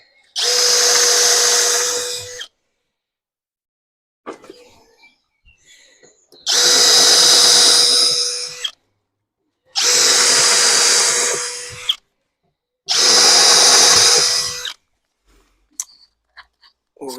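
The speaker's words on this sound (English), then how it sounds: "So now I'm going to use the third option, is the wood drill" Dong Cheng 20V brushless heavy-duty impact drill with a wood bit boring a pilot hole, four loud whining bursts of about two seconds each, separated by short pauses and faint handling noises.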